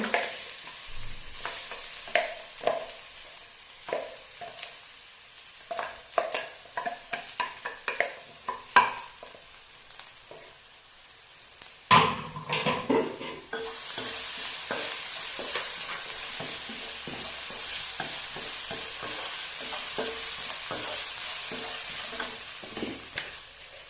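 Mature drumstick upperi is stir-fried with crushed coconut, first as irregular scraping stirs in a pan, then shifting into a continuous loud sizzle that runs to the end with steady ladle strokes underneath.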